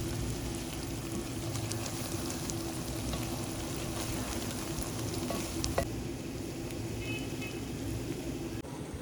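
Onions frying until browned in a pan for dhaba-style beef kaleji, a continuous even sizzle with faint clicks and scrapes, close up and without speech.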